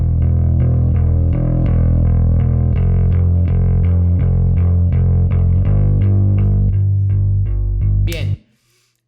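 A bass guitar with heavily exaggerated overdrive distortion plays a continuous line of low, fuzzy, rasping notes, loud and up front, cutting off sharply near the end with a brief noisy squeal.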